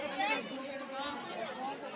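Many voices murmur and chatter in a packed crowd at the Chandeshwar temple during a festival, an even, unbroken hubbub that stays close and fairly soft.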